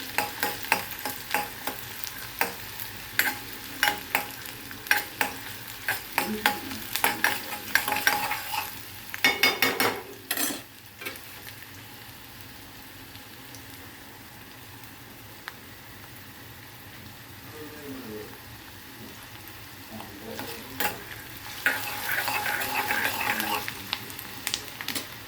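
Chopped onion fries in a pan with cumin, crackling and hissing while a utensil scrapes and stirs in quick repeated strokes; the sizzle eases to a quieter simmer midway, then the busy stirring returns.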